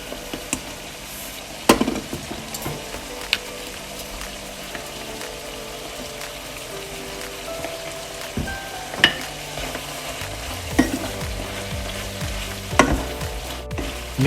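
Pork in a creamy mushroom sauce bubbles and sizzles in a pan while a spoon stirs it, giving a steady close hiss broken by occasional clinks against the pan, with no voices.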